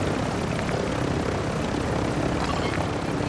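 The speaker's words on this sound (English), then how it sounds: "Look at your helicopter right there, bro." Helicopter in a video game, a continuous loud rotor whir and engine roar that fills the whole stretch, with no voices over it.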